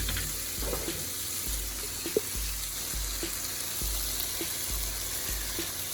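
Pasta sauce is poured into a pan of meatballs on the stove, giving a steady wet sizzle and bubbling with small pops and clicks throughout, near and fairly quiet, with no talk.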